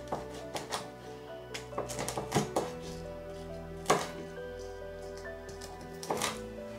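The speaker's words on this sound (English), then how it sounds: "Now I cut this dry chili." A knife chops dried chili on a cutting board for a Chinese-style cucumber salad. Irregular taps and knocks come at close range over a steady low hum, with one louder chop near the middle.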